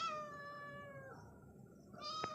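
A single drawn-out cat meow, fairly close and clear, followed by a shorter, sharper mew near the end.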